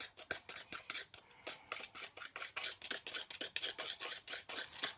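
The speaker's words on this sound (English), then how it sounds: "I'm just going to give that a little whisk." A whisk beating dry ingredients together in a bowl for a salted caramel mug cake, quick rhythmic scraping strokes repeating rapidly and close, with no talking.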